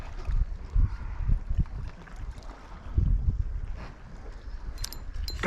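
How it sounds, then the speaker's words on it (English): Gusty wind buffets the microphone in low rumbling surges while fishing from a small boat near Port Vincent, with faint water lapping underneath and no talking. "this wind's picking up"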